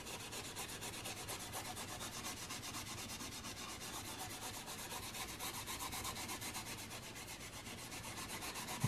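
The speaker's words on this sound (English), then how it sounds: "With steel wool, I would really go with the grain of the wood." Steel wool rubbed along the grain of an antique wooden piece, a continuous soft scratchy rasping with steady back-and-forth strokes, quiet and close, with no talking.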